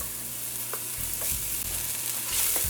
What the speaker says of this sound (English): Now I'm going to go in with some chopped onions and scallions.